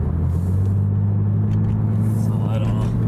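A 1996 Pontiac Grand Prix with a 3.1 V6 driving along, a deep steady engine rumble close and loud throughout, no talk.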